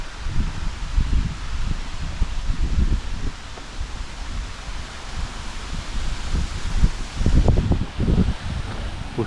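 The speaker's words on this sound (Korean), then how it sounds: "바람 소리." Wind moving through trees along a forest meditation trail in Yesan, South Chungcheong, making steady rustling of leaves with gusty low rumbles that swell near the end, with no voices.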